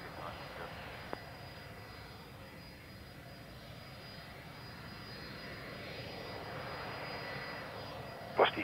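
An airliner, a Virgin Australia Regional jet, takes off from runway 03 at Perth Airport, its engines giving a steady, distant roar that swells slightly toward the end, with a brief sharp bump near the close.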